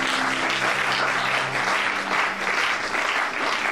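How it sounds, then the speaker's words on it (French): A crowd cheers and applauds continuously at a religious Bible teaching gathering, a dense, steady wash of clapping that stays loud throughout, with a faint low hum underneath. "Ok, quelqu'un acclame."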